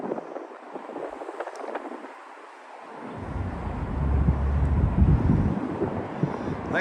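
Cold wind gusting near the Staten Island Ferry in New York, buffeting the microphone in rumbling waves that ease briefly then build again, close and loud, with no voices.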